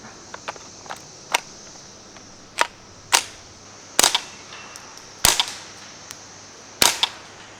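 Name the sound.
suppressed gunshots from Tippmann M422 .22 rifle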